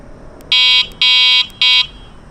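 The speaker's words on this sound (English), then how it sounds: "for one, its loud horn" The loud electric horn of a Qiolor Tiger electric bike sounds three sharp buzzing honks, the middle one longest, close and piercing over a quiet background with no voices.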